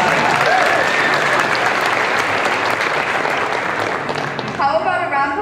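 An audience claps loudly for models at a high school prom showcase, dense steady applause with a few cheers, then a voice begins speaking as the clapping fades at the end.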